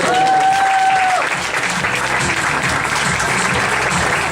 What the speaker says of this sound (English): So please give him a big round of applause.